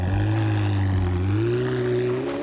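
A 2020 McLaren 720S Spider supercar drives along, its engine a deep, loud steady drone whose pitch rises gradually as it accelerates, with wind noise around the open cabin.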